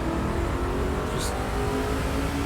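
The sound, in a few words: racing truck engine in the video game NASCAR 06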